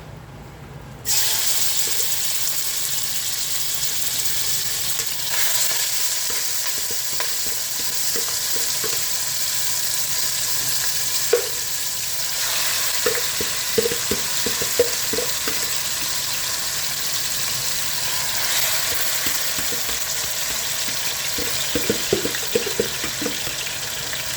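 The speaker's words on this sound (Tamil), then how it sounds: "இதை நல்லா நம்ம ஒரு 3 minutesக்கு நல்லா சாட் பண்ணிடலாம் இந்த மட்டனை" Marinated mutton sizzles and fries in hot ghee in a pan, a steady close crackle with intermittent scraping and clinking of a stirring spoon throughout; no voices.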